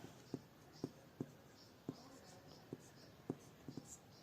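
Hand-writing the introduction of a school project: a series of faint, sharp pen or pencil taps and strokes on paper, spaced irregularly, close by and quiet.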